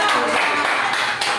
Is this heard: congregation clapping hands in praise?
yes